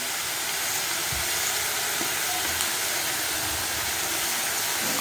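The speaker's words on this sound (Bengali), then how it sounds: "তাই চলো ভাজা ভাজা করি" Potato and leafy greens frying in a pan on the stove, giving a steady, even sizzling hiss throughout with no talking.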